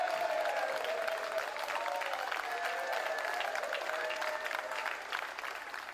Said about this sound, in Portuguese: Após a declaração, Sunak foi recepcionado com aplausos pelos legisladores do partido.